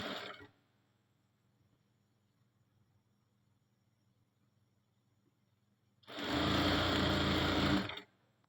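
A sewing machine runs in two bursts, stitching along a marked line on fabric: a short run at the start, a long quiet pause, then a loud close two-second whir of stitching.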